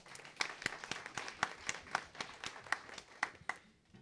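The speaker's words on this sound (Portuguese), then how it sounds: "a salva de palmas para vocês também" Scattered, sparse hand clapping from a small audience in a legislative chamber during a forum session, sharp separate claps at an uneven rhythm, moderately close and fairly faint.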